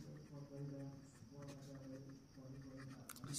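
Soft scratching of a pen writing on paper runs under a voice working through a maths problem, faint and close.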